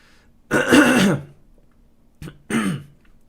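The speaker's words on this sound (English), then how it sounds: "Let me just mute this for a while and clear my throat" Two throat clearings, a long rough one and then a shorter one after a brief pause, close up in a quiet room.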